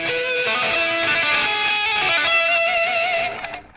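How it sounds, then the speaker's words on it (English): Electric guitar octave shapes sounded by tapping the string with a fingertip, giving a steady, bright, sustained tone with dense upper harmonics that holds for about three seconds before fading. "you can tap that with your forefinger or second finger"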